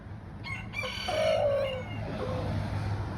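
A backyard rooster crows once, a loud, drawn-out call close by, with faint bird noise around it.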